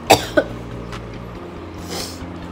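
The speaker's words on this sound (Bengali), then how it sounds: "আমার আর কাশি কমছে না, উফ" Two quick, sharp coughs from someone with a cold, close and loud at the start, then quieter indoor background with a faint throat noise later.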